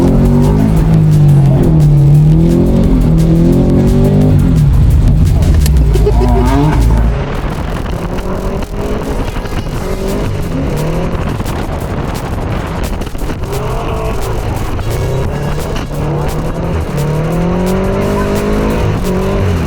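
Subaru BRZ or Toyota 86 drifting on a skid pan at a drift night, its engine revving hard and tires squealing in long loud bursts that continue throughout, with faint voices underneath.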